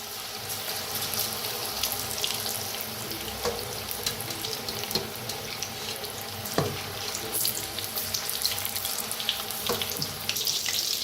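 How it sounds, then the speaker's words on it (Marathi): Chana vada batter fries in hot oil with a dense, constant sizzle and occasional sharper crackles and pops, heard up close throughout with no talking. "आता तेल बी चांगलं गरम झालेलं आहे बघा तर असं सोडायचं या पद्धतीनं किती तेलात बसतंय तेवढं"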